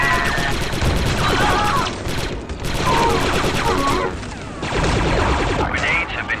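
Star Wars Republic Commando gun position firing, rapid loud bursts of blaster fire and crashes in several volleys with short gaps, while a voice speaks over the battle.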